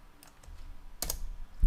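Computer keyboard keys are pressed during Photoshop work, ending in a sharp, close Enter-key strike, with a few faint clicks before it and a short thump at the very end.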